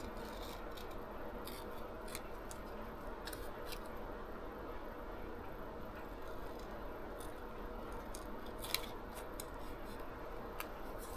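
Quiet, close snipping of scissors cutting out a magnetic paper figure, small repeated cuts over a soft background hiss.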